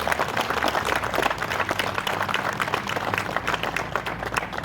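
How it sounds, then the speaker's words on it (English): A crowd applauds El Dorado County Fire at the grand reopening of the Medic 49 station, with sustained, even clapping from many hands close by and a faint murmur of voices underneath. "So I want to give a big round of applause to El Dorado County Fire."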